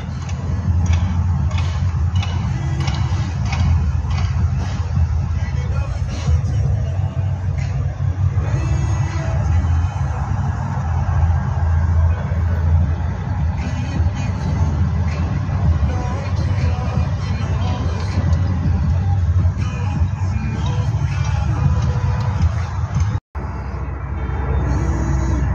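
Heavy road traffic in Saudi Arabia, a steady low rumble of car engines and passing vehicles from inside a car, continuous and loud, with faint background chatter and a brief dropout near the end.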